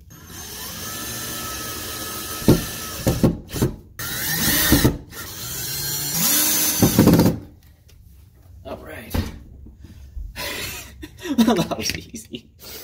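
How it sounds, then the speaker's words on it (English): Power drill pre-drilling holes in old wood while fixing a drafty door, several short whirring bursts of varying length separated by pauses, close by, with someone talking between them. "I'm gonna pre-drill all these holes because old wood and no pre-drilling don't mix well together"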